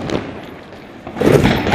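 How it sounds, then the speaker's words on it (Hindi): Diwali fireworks going off during a family celebration, a few muffled bangs and crackles, with a louder burst near the end. "ये देखिए कितनी बढ़िया आतिशबाजी चल रही है सामने की तरफ यहाँ पे"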